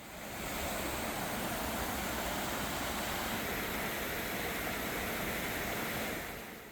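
Steady broadband rushing of water flowing down a mountain valley stream, a continuous close wash of noise with no breaks or voices for several seconds.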